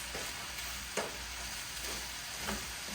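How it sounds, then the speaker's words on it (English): Shrimp, broccoli, mushrooms and minced garlic fry in coconut oil while being stirred, giving a steady close sizzle with a few soft scraping clicks of the utensil against the pan and no talking. "let me just get these stirred around. I put coconut oil and garlic, minced garlic in here with the shrimp and the broccoli and the mushrooms"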